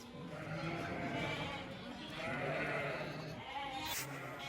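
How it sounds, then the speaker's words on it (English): Sheep bleat repeatedly during shearing on a livestock farm, with steady flock noise and overlapping calls close by and fairly loud throughout. "My role, helping to drive the sheep forward."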